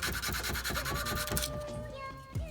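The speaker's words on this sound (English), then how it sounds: "sanding down the handle" Someone sands a handmade knife handle by hand, producing a rhythmic back-and-forth rasping scrape of steady strokes at close range. The strokes stop partway through, leaving a quieter background.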